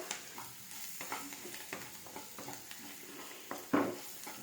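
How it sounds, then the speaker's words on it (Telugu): Curry leaf rice base frying with coriander in a pan, a low busy sizzle under repeated stirring scrapes and light clinks, closing with one louder knock of the utensil against the pan. "ఫైనల్గా కొత్తిమీర వేసి జస్ట్ ఇలా ఫ్రై చేస్తే సరిపోతుందండి"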